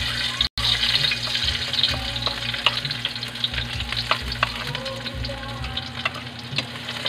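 Garlic frying in hot cooking oil for adobo, a loud continuous sizzle with occasional stirring scrapes and brief clatter, no talking.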